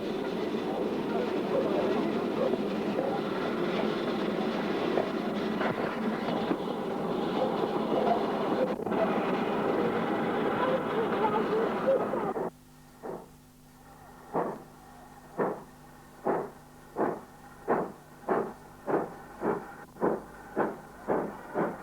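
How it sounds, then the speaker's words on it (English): A Great Western steam locomotive hauls a train into Ramsbottom Station on the East Lancashire Railway: a loud, steady rumble first, then a run of evenly spaced clanking beats that slow as it arrives. "the Great Western locomotive Ordney Mug, seen here, bringing the second train into Ramsbottom Station."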